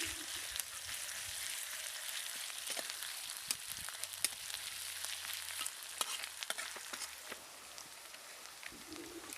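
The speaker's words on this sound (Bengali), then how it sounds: "পেঁয়াজ, আদা আর কাঁচা লঙ্কা কুচিটাকে একটু ভেজে নিয়েছি" Onion, ginger and chopped green chili frying in a pan, a soft continuous sizzle broken by scattered crackles and spatters, fairly quiet and close.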